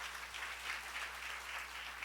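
Steady applause from a congregation at a church seminar, a continuous even wash of clapping held at the same moderate level throughout, with no voices over it.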